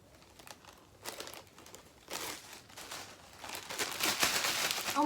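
Plastic bag crinkled and shuffled at close range, with rustling bursts that start soft and grow louder and denser, peaking near the end.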